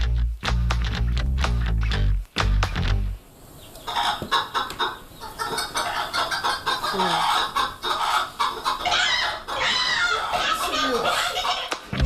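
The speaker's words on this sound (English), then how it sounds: "Oh, there's chickens everywhere." Many chickens cluck and squawk in a busy, continuous chorus, with people talking over them; the flock sounds close.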